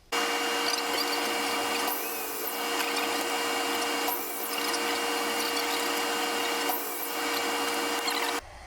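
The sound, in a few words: cutting a round support piece for a copper fire pit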